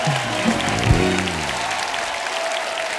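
A studio audience gives a dense, sustained round of applause at a television comedy talk show, clapping loudly and steadily throughout, with a brief low vocal sound near the start.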